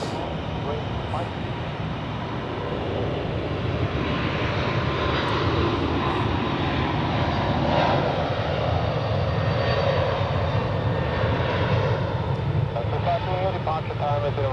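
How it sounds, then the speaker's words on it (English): An Airbus A320neo jet departs Zurich Airport bound for Vienna, a steady broadband engine roar that holds at even loudness throughout with no clear peak or fade, and voices talk over it. "Next is the A320 Neo, outbound to Vienna."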